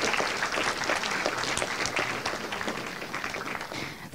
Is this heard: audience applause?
yes